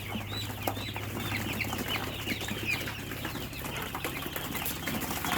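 Many three-day-old broiler chicks cheep and chirp continuously in a busy chorus, with a low steady hum underneath and occasional rustling.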